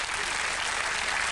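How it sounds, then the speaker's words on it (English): Studio audience applauding on a TV dating show, a steady dense wash of clapping that fills the whole moment at full, close volume. "give them a round of applause,"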